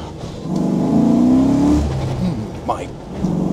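Hard first-gear acceleration in a Land Rover Defender with a 5.3-litre engine: a rising engine roar heard from inside the cabin that climbs, then drops away, followed by a brief spoken exclamation and a returning engine hum.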